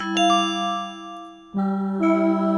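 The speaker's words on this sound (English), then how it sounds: "More bell tones." Synthesizer bell tones from a Yamaha PCI synth card rig ring out in sustained chords, a struck attack near the start and a louder new chord entering midway, shimmering overtones.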